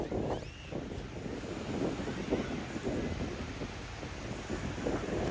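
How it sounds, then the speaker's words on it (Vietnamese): Strong wind buffets the microphone in a steady roar over the rumble of large waves breaking at a beach in Japan, with no one talking. "Đây rất nhiều gió, rất là nhiều gió và nắng ở ngoài xa, sóng rất là lớn luôn."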